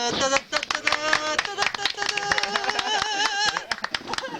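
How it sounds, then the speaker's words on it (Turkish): Scattered hand claps from a small cycling group sound close by, broken and uneven, while several people talk and call out over them. "Alkış."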